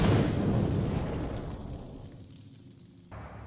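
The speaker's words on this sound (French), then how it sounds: "Il crée cette énorme explosion." A huge explosion set off during a heist near a highway, a bar and a parking lot: a loud, broad roar that slowly decays over a few seconds, with a slight swell near the end.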